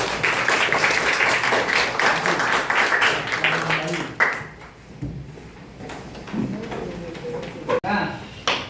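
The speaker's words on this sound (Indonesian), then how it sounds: "Oke, beri aplaus." Seventh-grade students in a classroom at SMPN 6 Pasuruan applaud together, a burst of many hands clapping loudly for about four seconds before it fades into quieter room noise and a sharp knock.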